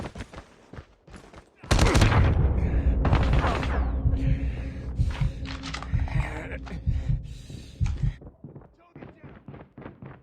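A Kilo 141 rifle in a video game fired as a machine gun, rapid sustained bursts of loud gunfire after a quiet start, followed by scattered shots and game voice callouts.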